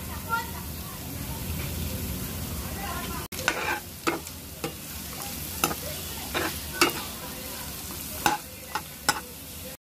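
Onion and tomato sautéing in a pan for kantola bhaji, a soft sizzle under low background noise, then sharper spatula scrapes and knocks at irregular intervals after a brief cut.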